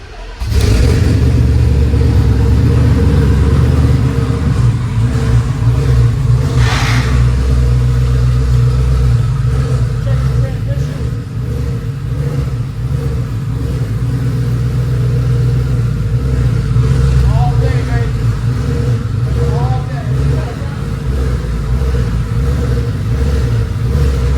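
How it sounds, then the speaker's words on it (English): A twin-turbo Gen 2 Coyote engine in a Ford F150 fires up loud and close, then settles into a heavy rumbling idle broken by a few sharp revs. "Go ahead and start it up. Start it back up."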